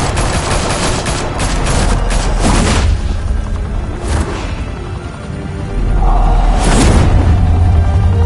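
Sustained volleys of automatic gunfire and booming shots in a Batman: The Telltale Series game battle, loud and dense throughout with a brief lull before another heavy burst near the end.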